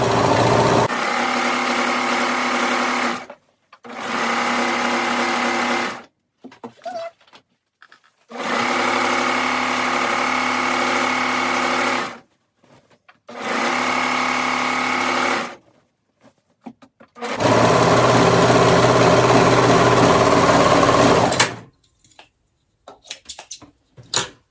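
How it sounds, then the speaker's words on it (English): A serger overlock machine stitches the top and bottom edges of skirt fabric in five loud, fast-running bursts of steady mechanical whirring, each a few seconds long and separated by short quiet gaps. "So then it says to serge around the top and the bottom"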